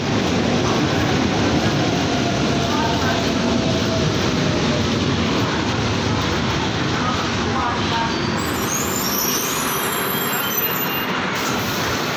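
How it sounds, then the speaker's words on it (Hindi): A metro train rumbles steadily nearby, pulling into a station in Istanbul with wheels squealing on the rails, a continuous loud roar with faint voices underneath. "ट्रेन आ रही है"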